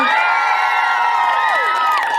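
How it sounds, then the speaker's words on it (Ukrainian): A karaoke contest crowd cheers and whoops loudly and continuously, with high shouts and whistles rising over a dense wash of noise. "Оплески Ірі Хоменко."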